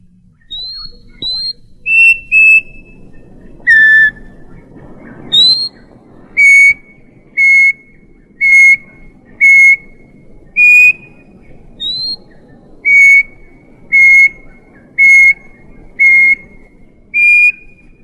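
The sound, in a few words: antbird calling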